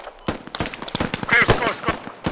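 Rapid gunfire from the Squad video game crackles in quick bursts of sharp close shots during a close-quarters fight with an M110 marksman rifle, with a voice calling out between the shots.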